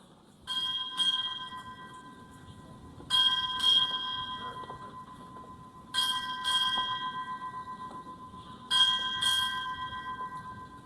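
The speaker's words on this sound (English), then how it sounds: "Time orderly, strike 8 bells." A ship's bell struck eight times at a U.S. Navy change of command ceremony, ringing in four paired double strikes spaced evenly apart, each clear metallic clang decaying slowly into a quiet hall with no talking.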